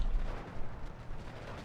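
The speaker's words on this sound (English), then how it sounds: "That's a lot of bombs to kill 2 guys." Bomb explosions in a Steel Division 2 wargame land as a dull, rolling low rumble with a heavier thud at the start, fairly faint and continuous.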